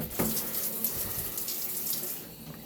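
Water sprays steadily from a slim filtered shower head in a small shower running full bore hot, a close, continuous hiss with a sharp splash near the start and no talking.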